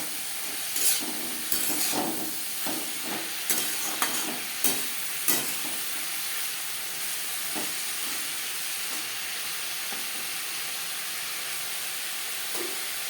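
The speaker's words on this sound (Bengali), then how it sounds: "লবণ হলুদ কাঁকরোলের সাথে বেশ ভালো করে মিক্স করে দেবো।" Teasel gourd being stirred with salt and turmeric in a pan, a spatula scraping in quick strokes early on over a continuous hiss of frying, the scraping fading to a steady sizzle.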